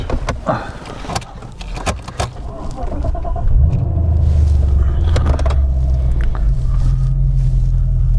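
A Mercedes-Benz W126 S-Class pulls away. Door and handling clunks come first, then the engine rises into a steady, close rumble that holds to the end. No clear talk is heard.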